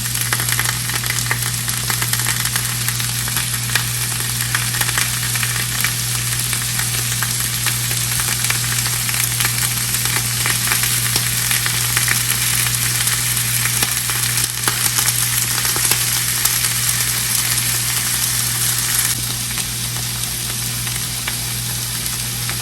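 Chicken seekh kebabs, slid off their skewers, sizzle steadily in a hot pan, a loud, continuous crackling fry with a constant low hum beneath it.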